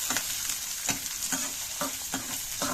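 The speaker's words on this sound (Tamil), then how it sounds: "அந்த ஒரு வெங்காயத்தை போட்டுக்கலாம். இதுக்கு நல்லா வதக்கி விட்டுக்கலாம்." Chopped onion sautés in a pan for a raw plantain stir-fry, a steady close sizzle punctuated by rhythmic scraping stirs roughly twice a second.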